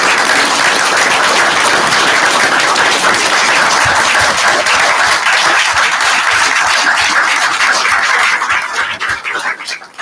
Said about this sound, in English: Can you guys stand up and give them a round of applause